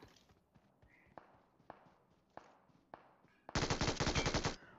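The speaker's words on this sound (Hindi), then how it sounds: "M G light three machine gun इतने दूर से भी फायर दे सकती है" MG3 light machine gun firing in a mobile battle royale game: a dense, loud burst of rapid automatic fire near the end, preceded by faint, evenly spaced distant shots and soft footsteps.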